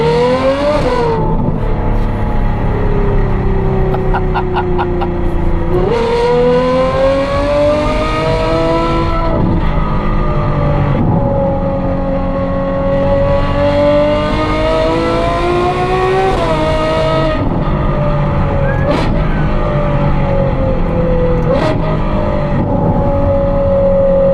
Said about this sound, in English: Driving a big GT car with the n-largo kit